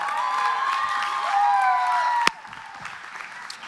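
Church crowd clapping and cheering for their pastors at a youth worship night, with a sustained tone over the applause that stops with a sharp click, leaving softer scattered clapping.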